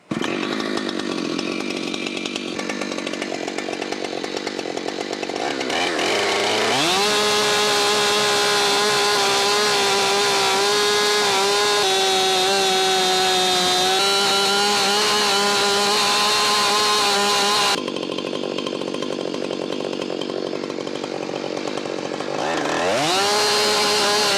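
A Husqvarna 592XP chainsaw in a mill rips along a log, cutting 2-inch boards. The engine idles briefly, then roars at full throttle in a long, steady loud cut before dropping back to idle and revving up again.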